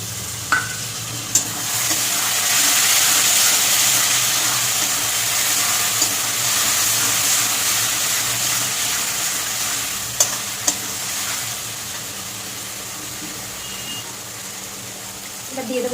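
Water poured onto onion paste in a hot pan for a Bengali hilsa curry, a loud, steady sizzle that swells and holds for several seconds with occasional clinks of a utensil.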